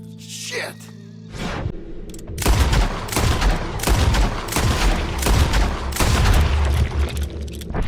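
Gunfire in the video game Red Dead Redemption 2: a burst of loud, close shots with booming impacts, heard under excited voices.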